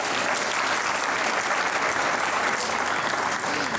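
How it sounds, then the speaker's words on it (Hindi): A studio audience at a comedy talk show applauds loudly and continuously, with dense sustained clapping that holds at an even level throughout. "वो तालियां बजाएं"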